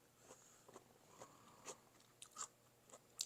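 Someone chewing crunchy, tender green beans in a quick noodle dinner: a faint, close series of soft crisp bites and crunches at an irregular pace, alone without talk.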